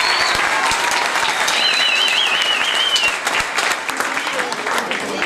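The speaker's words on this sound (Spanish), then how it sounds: "es para quien voy a pedir el gran aplauso" An audience at a paper workers' union gathering gives a big, sustained round of applause, dense and loud throughout, with a few whistles rising over the clapping and cheering before it thins slightly at the end.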